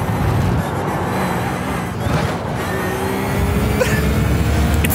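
In the iRacing video game, a race car rumbles through a chicane at steady volume with a grinding, scraping undertone from the bottom of the car and a brief sharper scrape near the end.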